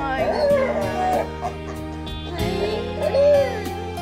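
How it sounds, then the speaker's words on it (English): A rescued pregnant street dog whimpers and breaks into rising, wavering howls, the cries coming in two drawn-out bursts, close and fairly loud, with a person talking softly around them. "As soon as Scooby sees Nicole, he breaks out into song. He's howling, he's talking"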